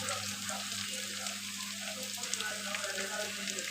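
Spices for chicken curry fry in a pan, a faint, even sizzle and crackle of hot oil continuing quietly with no talking.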